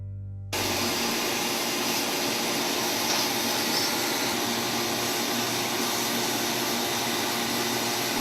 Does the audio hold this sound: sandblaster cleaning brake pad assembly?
yes